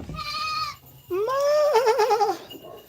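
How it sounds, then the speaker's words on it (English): A goat bleats in a pen: a short nasal cry, a brief pause, then a longer, wavering bleat, loud and close. "There's 3 goats in here."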